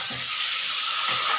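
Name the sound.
lentils (dal) being poured into hot pan, sizzling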